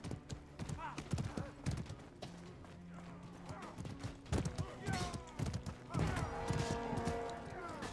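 In the medieval combat game Mordhau, horse hooves clip-clop in quick irregular bursts, mixed with clashing weapons, whinnies and battle noise while a player talks over the action.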